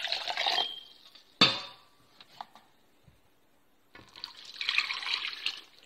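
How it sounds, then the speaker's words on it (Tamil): Water is poured into a mixer jar to rinse it and then tipped into tomato dosa batter in a kitchen: a close splashing pour, a sharp clink of the jar, a quiet gap, then another longer stream of pouring water. "அதில் 2 கப் சேர்த்து இந்த மிக்ஸியை அலம்பி இதோட ஊற்றிக்க போகிறோம்"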